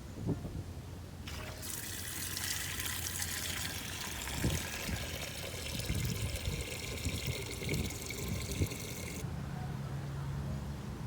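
Water is poured into a homemade decorative solar fountain, making a steady, close splashing stream that starts abruptly and runs for about eight seconds before stopping, with faint low knocks underneath.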